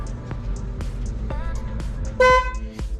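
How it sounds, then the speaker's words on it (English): The stock horn of a Mazdaspeed 3 gives one short, loud, bright honk near the end, heard close after a few seconds of faint clicks and low background rumble. "So that's the stock horn."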